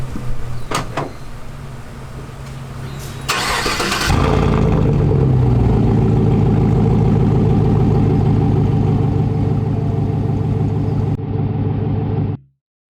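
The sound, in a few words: 2016 Chevrolet Silverado truck engine starting and moving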